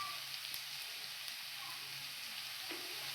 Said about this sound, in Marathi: आणि कांद्याला चांगला खरपूस भाजून घ्यायचं असतं.